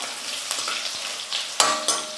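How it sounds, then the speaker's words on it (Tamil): Urad dal, garlic and dried red chillies frying in oil, a soft hiss with a few louder scraping stirs and sharp pan clinks over two seconds, no voices. "இதெல்லாம் நல்லா வறுத்துக்கலாம்."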